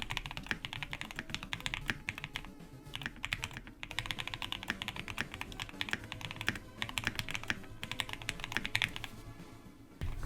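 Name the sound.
mechanical keyboard typing, linear switches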